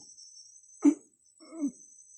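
Two short coughs sound in quiet surroundings, the first sharper and the second softer, with a faint steady insect buzz in the background.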